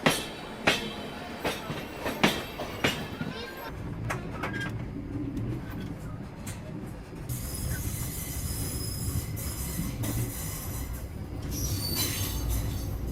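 A passenger express train rolls past, with sharp wheel clicks and clatter at first, then a steady loud rumble of railcars with high metallic squeal on the rails.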